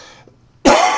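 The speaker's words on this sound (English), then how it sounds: "I'm sorry about the coughing." A single sharp, loud cough or throat-clearing bursts close to the microphone after a near-silent pause, with no speech around it.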